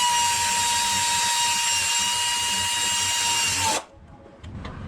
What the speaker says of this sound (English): pull this back, put my air ratchet in there